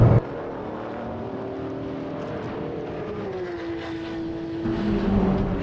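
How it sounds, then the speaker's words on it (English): A Suzuki-engined race car in an endurance series race drones steadily with a sustained engine tone that climbs and settles mid-clip, heard alone without talk. "Franco definitely going to be pushing that Suzuki engine"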